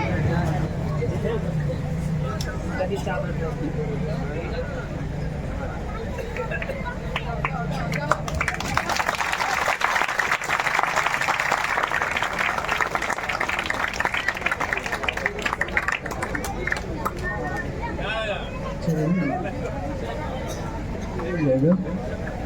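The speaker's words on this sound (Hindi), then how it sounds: "उसके बाद आप लोग ताली बजाइएगा।" An outdoor village gathering honouring poets with a chief guest, where the audience claps in a sustained patter for several seconds amid crowd chatter and background talk.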